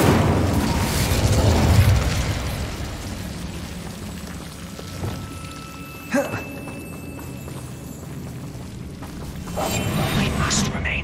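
The Incendio fire spell is cast in the wizarding game Hogwarts Legacy, giving a sudden fiery burst partway through amid rumbling game ambience and voices.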